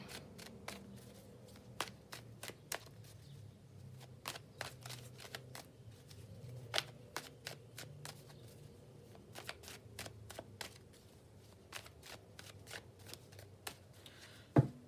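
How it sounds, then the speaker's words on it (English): Tarot and oracle cards being shuffled by hand, a steady run of sharp riffling clicks and soft slaps, close and fairly quiet, with a louder snap of the deck near the end. "Just gonna have a shuffle"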